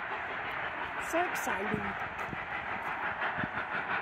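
A passing train gives a steady broad rumble and hiss, with whistle-like tones and clicks over it, while people nearby talk excitedly.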